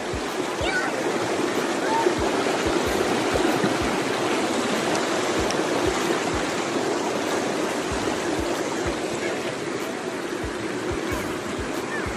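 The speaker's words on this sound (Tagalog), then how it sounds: "lakas ng tulo doon o." A rural creek in the fields flowing strongly, a loud, steady rush of water that holds unbroken from start to finish.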